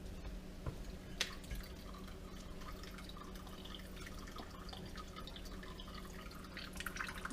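Homemade chicken stock draining through a strainer after the solids are pressed down, giving faint, steady trickling with scattered drips close by and no voices.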